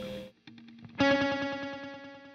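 An electric guitar plays through the Source Audio Collider delay and reverb pedal set to delay, with short plucked notes followed by a sustained chord whose repeats pulse in an even, fading rhythm.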